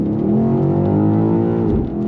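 BMW XM SUV engine pulls hard under acceleration, a loud, deep drone rising in pitch with a quick dip near the end as a fast gear shift lands.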